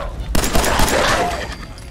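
Gunfire in Fallout 4 gameplay, a sudden loud burst of rapid shots that fills the clip with dense crackling fire and echoing noise, close and intense.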